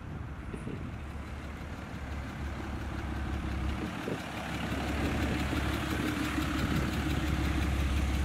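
Cummins diesel truck engine idling with a steady low rumble and clatter that grows slightly louder toward the end, close and with no talking.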